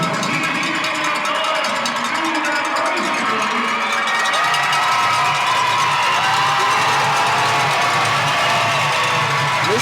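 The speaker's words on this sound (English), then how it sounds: "This crowd is riled up right now." A crowd at a Saint John Mill Rats basketball game roars and whoops continuously while a cowbell clanks repeatedly, loud and dense throughout, with faint talk mixed in.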